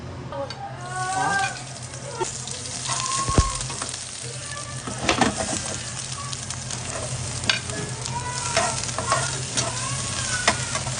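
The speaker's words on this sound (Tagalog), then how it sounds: "Nagluluto lang si Mami." Sardines cooking in a home pan give a steady, close sizzle and frying hiss throughout, with occasional clinks and scrapes of stirring and light utensil knocks.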